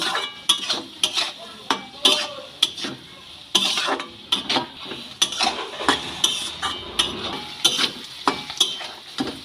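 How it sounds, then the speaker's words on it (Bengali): A spoon scrapes and knocks against a pan as vegetables with turmeric are stirred, in a steady rhythm of sharp clatters roughly every half second over a faint sizzle, close and clear, with no talking. "হলুদ দিয়ে খুব ভালো করে সবজিগুলো নেড়ে চেড়ে নেব"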